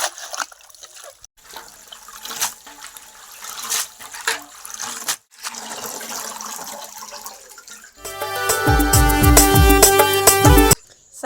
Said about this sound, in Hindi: अब हम साग के धोए जाती